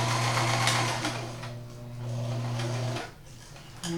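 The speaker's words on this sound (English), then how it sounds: "let's start off with a straight stitch" A Kenmore 158.13500 sewing machine running a straight stitch, a steady humming whir with rapid needle clatter that runs for about three seconds, stops briefly, then restarts at the very end; no one speaks.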